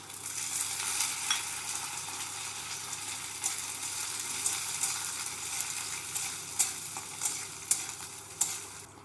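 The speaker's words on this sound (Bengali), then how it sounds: "এখন দিয়ে দিচ্ছি কিছুটা ছোলার ডাল আর কাঁচা লঙ্কা। এটা একটু নেড়ে চেড়ে নিচ্ছি।" Chana dal, green chillies and peanuts frying in a pan, a constant hissing sizzle with occasional sharp spatula scrapes and stirs growing more frequent toward the end.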